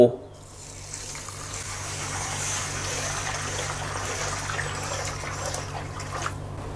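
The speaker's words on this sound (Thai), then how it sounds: "แล้วเทน้ำสะอาดลงไปให้ท่วมเม็ดสาคู" Water pours steadily into a bowl of small sago pearls close by, a continuous splashing gush lasting several seconds with no talking.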